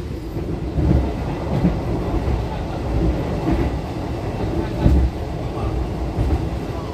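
The Argo Bromo Anggrek passenger train runs at speed on rails, a loud, steady low rumble and roar heard from inside, with faint rhythmic clatter from the wheels and no break in the noise.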